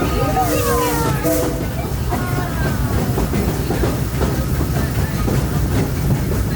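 The Disneyland Railroad steam train rolls along the rails, a steady loud rumble with rhythmic wheel clatter and hiss, while a voice speaks over it.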